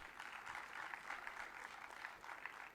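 An audience applauds at an award ceremony for technical education, sustained, even clapping from a crowd at a moderate distance.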